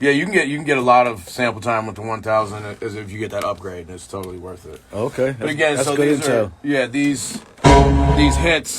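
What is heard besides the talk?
None of the usual background noises is heard.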